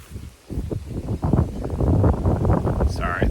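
Wind buffets a camera gimbal outdoors, a rough, close rumble of wind noise swelling over a few seconds, with a faint higher tone near the end.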